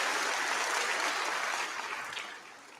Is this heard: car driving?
no